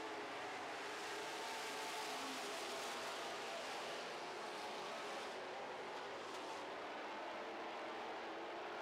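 Super stock race cars circle a track in a feature race, a faint, distant engine drone that rises and falls steadily as the field passes, with no talk over it.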